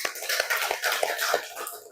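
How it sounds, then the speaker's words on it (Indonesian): Middle school students clapping together in a physical education class, a short run of about five sharp claps in an even rhythm, close and fairly loud. "Oke, tepuk tangan dulu"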